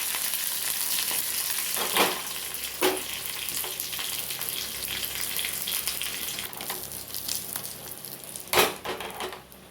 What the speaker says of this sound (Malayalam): കടുകൊക്കെ പൊട്ടി കരിവേപ്പിലയൊക്കെ മൂത്തു.